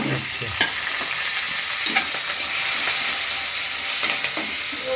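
Sliced onion, green chillies and curry leaves frying in hot oil for an okra masala curry, with a steady close sizzle broken by occasional stirring scrapes.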